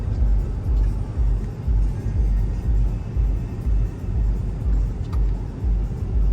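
A Porsche Cayenne S driving through deep sand in first gear with the throttle applied, its engine giving a loud, steady low rumble that swells and eases in slow pulses throughout.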